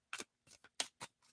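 A deck of tarot cards is shuffled loosely, giving five quick riffling bursts of crisp papery flutter, close and quiet, separated by short pauses.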